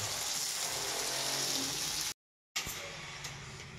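Bottle gourd pieces frying lightly in a pan for a small-fish curry, a steady crackling hiss with a brief silent cut partway through.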